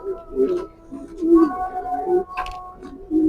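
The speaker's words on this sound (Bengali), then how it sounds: "এই যে খাওয়ার জন্য সব পাগল পাগল হয়েছে যাচ্ছে কবুতরগুলা" Pigeons coo in repeated low, throaty bursts close by while feeding on lemon and jaggery water, with a person talking over them.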